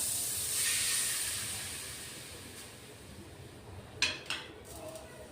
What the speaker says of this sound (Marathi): तडका तयार आहे आपला आपण याच्या याच्यात ओतून घेऊया मिश्रणमध्ये